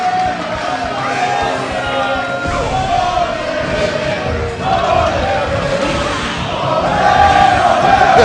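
A crowd at a King of Fighters XIII grand finals on a tournament main stage cheers and yells in loud, sustained waves, swelling near the end, with excited commentary over it.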